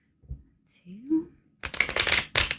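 Large tarot cards are shuffled, two quick riffling bursts of papery flutter near the end, close and crisp, after some faint handling noises and a brief murmur of voice.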